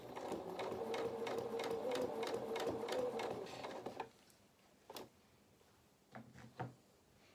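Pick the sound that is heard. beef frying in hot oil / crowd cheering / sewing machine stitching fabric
sewing machine stitching fabric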